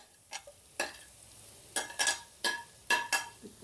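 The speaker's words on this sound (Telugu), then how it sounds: "ఇప్పుడు ఇందులోనే మనం ముందుగా ప్రిపేర్ చేసి పెట్టుకున్న ఈ బంగాళదుంపను వేసుకుందాం." Prepared potato tipped into a hot pan and stirred while frying, with several short separate bursts of sizzling and scraping over a quiet background, close and alone.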